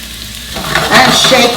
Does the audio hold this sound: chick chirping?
no